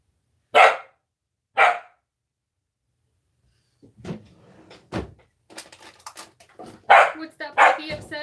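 A puppy barks in short sharp bursts, two isolated yaps near the start and several more later, close and loud, with a person speaking softly between the barks.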